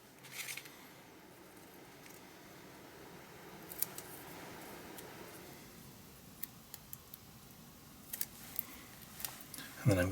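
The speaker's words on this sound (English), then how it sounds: "I'm just going to snip that a little bit just to make it a bit smaller" Scissors snip a small piece of paper for an art journal page, soft intermittent close clicks and cuts over a quiet room, scattered through the clip with no talk.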